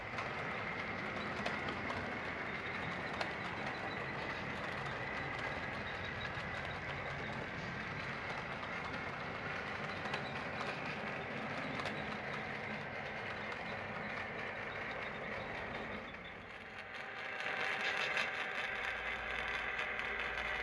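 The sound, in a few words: freight train 61 rolling through town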